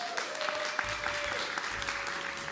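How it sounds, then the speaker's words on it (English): An indoor audience claps steadily for a featured guest at an afternoon dialogue event, a dense, even wash of applause that holds throughout without pause. "round of applause for Stephen."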